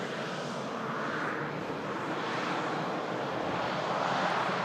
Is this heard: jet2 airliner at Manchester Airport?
yes